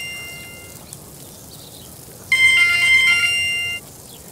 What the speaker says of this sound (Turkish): Telefon mu çalıyor ya?